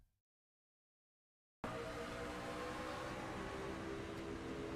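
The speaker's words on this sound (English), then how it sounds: "Let's listen to the engine here." Engine of a racing truck in the iRacing Truck Series at Daytona, a loud steady drone that cuts in abruptly after a stretch of silence and holds constant to the end.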